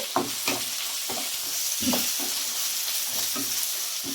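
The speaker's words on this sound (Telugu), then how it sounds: "అల్లం తెల్లగడ్డ పచ్చి వాసన పోయేదాకా దీంట్లో వేయించుకున్నాం." Ginger, garlic and slit green chillies sizzle steadily in hot oil, with repeated scraping stirs of a spatula every half second or so, close and moderately loud with no talking, while cooking a fenugreek-leaf chicken dish.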